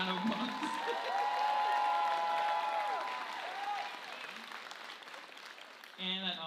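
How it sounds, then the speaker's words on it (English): Audience applause at a graduation ceremony, broad steady clapping across the whole stretch with a faint voice or tone running beneath, thinning toward the end. "But please give a round of applause."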